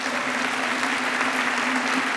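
Steady applause from a church audience, a dense wash of clapping hands that holds evenly throughout without voices.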